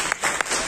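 Audience applause breaking out for hospital doctors and nurses during a hospital visit, a brief burst of clapping with a few sharper claps standing out.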